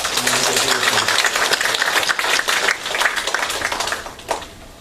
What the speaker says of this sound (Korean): 우리 구역 1구역 늘 하나님의 은혜가 가득 차기를 바라는 그런 마음으로 우리 격려의 박수 드리겠습니다